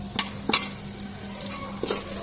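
A spoon scrapes and stirs spices in a pan of oil several times over a low, steady sizzle of frying.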